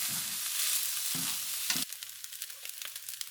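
Fully cooked chicken yakisoba noodles being reheated fry in a pan with a loud sizzling hiss that suddenly drops to a softer crackle with scattered pops and stirring.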